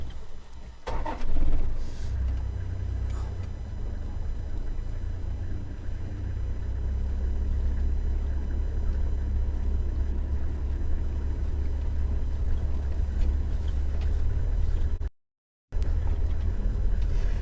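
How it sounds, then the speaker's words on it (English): A safari vehicle driving along a track at Mahali Mzuri, its engine and tyres giving a loud, steady low rumble from start to finish, with a few knocks and rattles and one brief cut-out near the end. No one speaks. "we're just driving along"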